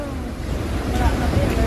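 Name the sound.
typhoon storm surge waves reaching a house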